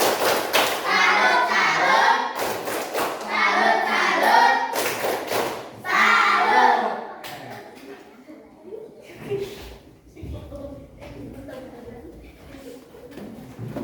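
A group claps together in bursts, loud and close, with children's voices and chatter mixed in, fading into scattered talk and thumps.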